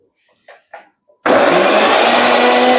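An electric mixer-grinder whirs loudly and steadily as it blends ginger and garlic into paste, starting abruptly after a few soft handling noises and running continuously to the end.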